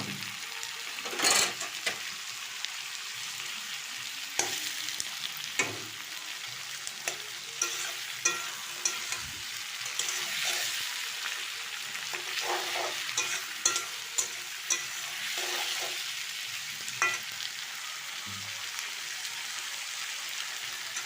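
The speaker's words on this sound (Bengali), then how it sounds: "এরপরে সেদ্ধ করা টমেটোটাও দিয়ে দেবো। এর জলে পেঁয়াজটা একটু সেদ্ধ হবে।" Boiled tomato and onions cooking down in a pan for chicken curry, with a soft continuous sizzle and bubbling under frequent close scraping stir strokes, no one speaking.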